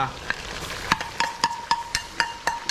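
Clams stir-fried quickly in a pan, later joined by basil, give a rhythmic series of sharp metallic scraping clacks from the spatula over a low sizzle, roughly every quarter second, close and clear.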